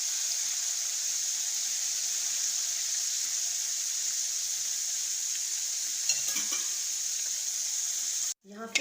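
Fish frying in hot oil, a steady broadband sizzle running continuously and fairly loud, with a brief clatter near the end as the pieces are turned.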